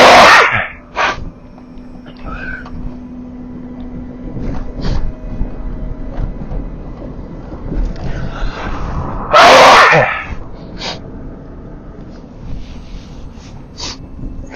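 A person sneezes sharply twice, near the start and again near the end, with sniffs and snorts in between, heard close and loud over a low rumble of background noise while out on a drive.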